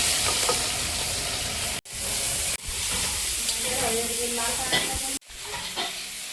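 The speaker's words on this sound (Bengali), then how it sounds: "চিংড়িটা ভেজে নেবো।" Prawns fry and sizzle in a hot pan, a dense steady hiss with stirring scrapes, broken by a few abrupt cuts.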